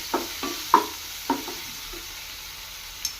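A spoon stirs ginger paste frying in a pan for dal, several distinct scraping knocks over a soft background sizzle, close and fairly quiet, with no talk.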